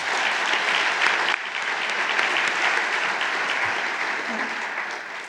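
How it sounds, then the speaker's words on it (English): Applause from a lecture audience at a university MLK event: sustained, dense clapping from a large crowd that stays steady and loud for several seconds, easing slightly partway through. "Can we give them another round of applause"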